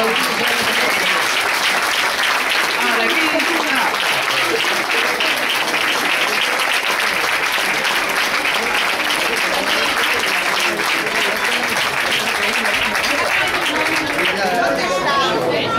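Audience applause fills a hall during a youth football club's team presentation, loud and continuous for about sixteen seconds, with crowd chatter and voices mixed into the clapping.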